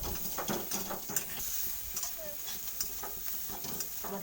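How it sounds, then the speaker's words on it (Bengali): Onion, garlic and ginger fry in a pan for a spicy fried vendi dish, with soft, fairly faint sizzling and repeated stirring scrapes in a steady rhythm, close by, with faint voice traces. "আমার পেঁয়াজটা হালকা করে ভাজা হয়ে গেছে সব কিছু।"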